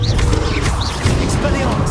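Confringo explosive spell in Hogwarts Legacy, a sharp crackling blast amid dense combat noise, with repeated bursts and thumps over a steady loud background.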